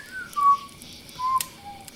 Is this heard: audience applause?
no